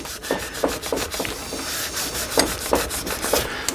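A fine 3000-grit pad rubs over a guitar finish in a steady back-and-forth rhythm, each stroke giving a soft, close scratchy swish with no voices.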